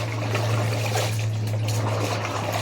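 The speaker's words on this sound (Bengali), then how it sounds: "বালতি ভর্তি করে জল দিয়ে নিচে এই যে ধুচ্ছি এখন" Clothes are washed by hand in a bucket filled with water, giving soft continuous trickling and sloshing over a steady low hum, with no talking.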